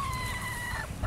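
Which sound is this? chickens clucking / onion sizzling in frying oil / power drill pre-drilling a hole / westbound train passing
chickens clucking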